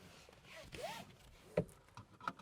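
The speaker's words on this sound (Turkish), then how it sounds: "Neyse emniyet kemerimizi takalım." A quick zipping slide followed by a sharp click, close by and brief, like a seatbelt being pulled across and latched in a Fiat Egea Sedan.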